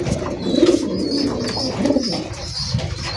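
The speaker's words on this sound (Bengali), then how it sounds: "পায়রা ডাকটা দেখেন" A Rajshahi Giribaz pigeon coos close by in soft, rolling throaty phrases, repeated twice, with faint chirps in the background.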